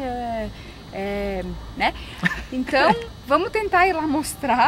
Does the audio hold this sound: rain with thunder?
no